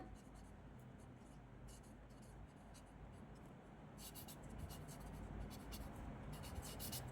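Pen writing on paper while working a maths problem, heard as a faint, continuous scratching with short bursts of quick strokes, close but quiet over a steady background hiss.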